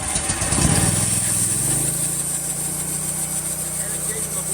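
A Big Red XP sawmill engine runs steadily and loudly, its low drone shifting pitch and settling into an even hum partway through as the unit slides back.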